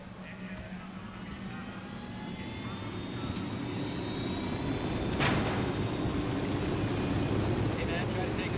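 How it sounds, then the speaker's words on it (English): A video game helicopter engine hums and whines with a steady rotor drone that slowly builds in loudness, with a brief sharp burst partway through. "Gonna get in the handy dandy chopper."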